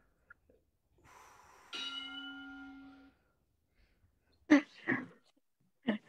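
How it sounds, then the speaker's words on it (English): A single bell is struck and rings out with a clear sustained tone that fades over about a second, followed by a few short breathy bursts. "It's a great bell."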